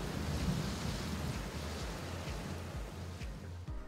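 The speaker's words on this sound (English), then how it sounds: "we've been having all these crazy afternoon storms here" An afternoon thunderstorm in Orlando: steady rain with a low rolling rumble of thunder beneath it, continuous and moderately distant, with no voices.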